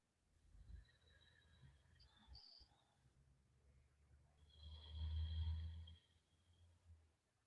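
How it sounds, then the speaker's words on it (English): Ujjayi breathing, drawn in and let out through a narrowed throat, makes a soft, hollow, ocean-like hiss on each breath, faint and close, with one slow inhale and one slow exhale and no talk. "I'll do one round of the in and out breath, narrowing the throat muscle so you can hear it."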